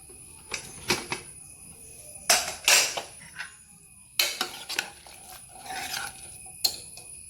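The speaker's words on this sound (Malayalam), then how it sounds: "കുക്കറിൻ്റെ പ്രഷറെല്ലാം പോയിട്ട് നമുക്കൊന്ന് തുറന്ന് നോക്കാം." Metallic clanks and clatters of a pressure cooker lid being opened after cooking chickpeas, in short bursts with pauses, close by and fairly loud, no talking.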